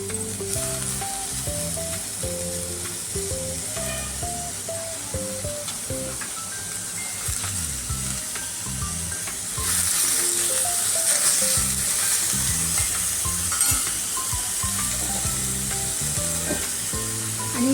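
Onion and tomato frying in a small amount of oil for chicken rassa: a steady close sizzle with stirring scrapes and clinks throughout, growing a little louder partway through.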